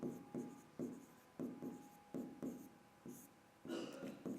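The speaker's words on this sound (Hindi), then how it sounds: "तो तीसरा पॉइंट अपन इसी पे लिखेंगे" Chalk or marker strokes on a board during a Hindi-language physics lecture on wave optics, coming as a steady series of short scratchy taps and scrawls, close and fairly quiet, with no talk over them.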